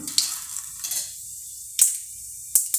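Hot oil sizzling with mustard seeds and urad dal in a kadai, sharp little pops and crackles, a few distinct bursts standing out against a soft background hiss.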